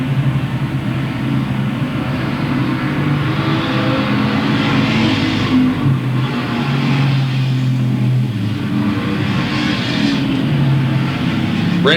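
Street stock race cars roar around a speedway, their engines a loud, continuous rumble that rises and falls as the pack moves down the back straightaway.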